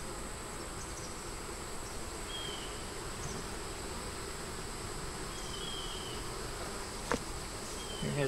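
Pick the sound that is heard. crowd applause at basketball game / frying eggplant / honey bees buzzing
honey bees buzzing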